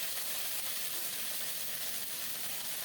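Ginger paste hitting hot oil with crushed cardamom and whole cumin, a steady, bright, even sizzle that holds at constant loudness throughout, close up with no voices.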